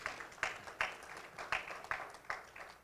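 Applause from an audience at a Uganda–Canada business expo, a moderate, steady patter of many hands with regular peaks, heard from a short distance with no voices over it.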